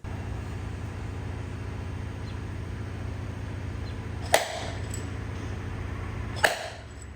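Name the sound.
paintless dent repair glue pull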